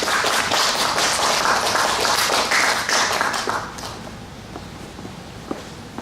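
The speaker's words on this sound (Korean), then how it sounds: "나오실 때 큰 박수로 맞아주시면 감사하겠습니다" An audience in a lecture hall applauds to welcome philosophy professor Park Chang-gyun at a humanities talk series, a dense burst of clapping that fades after about four seconds into a quiet room with a few stray taps.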